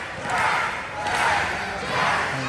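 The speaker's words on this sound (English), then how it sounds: "As the crowd chants trash." A crowd at an independent pro wrestling match chants during a bout, with three rhythmic swells of massed voices in a big room rising and falling at a steady pace.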